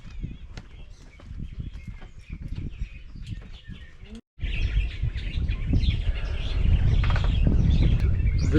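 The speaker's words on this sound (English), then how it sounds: "Awesome bird population in these trees and around." Wild birds chirp in the trees around Lake Panic in Kruger, with many short scattered tweets near and far. A brief gap of silence falls midway, then a fuller, busier chorus continues under low background rumble.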